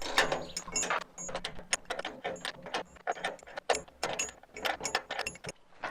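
Wrench turning a bolt, producing a rapid, close series of metallic ratcheting clicks and clacks in uneven bursts, with no talk.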